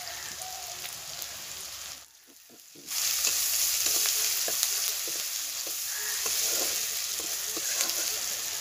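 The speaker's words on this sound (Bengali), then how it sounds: "এবারে কুচানো পেঁয়াজগুলো দিয়ে দেব" Chopped onions with salt hit hot mustard oil in a kadai, giving a steady close sizzle with small crackles. The sound drops briefly for about a second midway, then returns at full strength.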